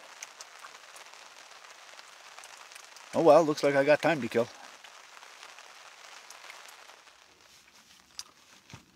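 Steady rain patters on a tarp throughout, with a brief spoken remark near the middle.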